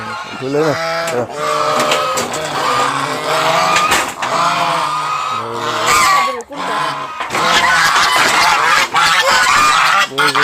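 Loud, repeated goose honks in harsh bursts, several birds calling over one another through the whole stretch, with people talking faintly underneath.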